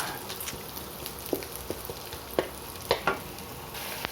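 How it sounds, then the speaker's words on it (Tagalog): Bagnet (crispy fried pork) stir-fried in a pan for pancit canton, a steady close sizzle with scattered clicks and scrapes from stirring. "halu-haluin na natin yung bagnet"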